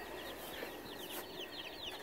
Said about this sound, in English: Got our chickens today. They're over here in the truck.